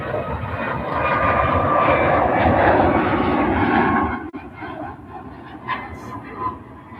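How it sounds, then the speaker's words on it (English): A SunExpress Boeing 737 MAX 8 jet departs from Manchester Airport, its engine roar loud and broad for several seconds, then it drops away abruptly to a fainter distant rumble. "This SunExpress is a Boeing 737 MAX 8 going off to Antalya."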